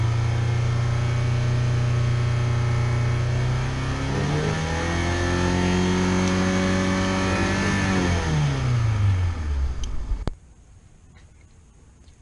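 A car engine revs as its TPS sensor is pressed by finger, rising smoothly from idle to a high sustained pitch, then falling back before cutting off abruptly, loud and close.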